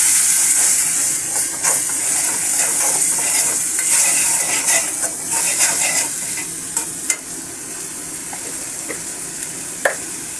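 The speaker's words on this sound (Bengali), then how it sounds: "সামান্য একটু পানি অ্যাড করে মশলাটা ভালো করে কষিয়ে নিচ্ছি।" Ginger-garlic spice paste with a splash of water sautéed and stirred for beef liver bhuna, a loud, close, continuous sizzle and hiss with the rhythmic scrape of a spoon and a couple of sharp knocks near the end.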